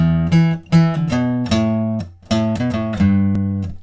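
A short guitar riff of quick plucked notes, then a brief pause and more notes, played clearly and close by with no talking.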